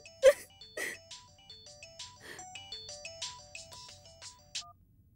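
A phone ringtone plays a quick electronic melody of short beeping notes, with a few soft rustles and knocks mixed in.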